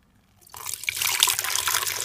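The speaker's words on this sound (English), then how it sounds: "So this is gonna be my second time straining it." Carrot juice pours suddenly through a strainer after a brief near-silence, becoming a steady close splashing trickle of liquid.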